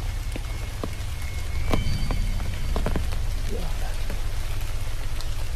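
Rain that has eased from a heavy downpour falls steadily, pattering close by on an umbrella and nearby surfaces, with scattered sharper drops and taps over a constant wash of noise.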